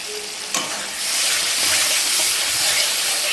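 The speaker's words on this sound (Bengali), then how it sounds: "টমেটো দিয়ে দিলাম, এবার একটু নাড়তে থাকবো।" Tomatoes hitting hot oil in a pan and being stirred, a sharp clack near the start, then a loud close hiss and sizzle that swells and holds steady.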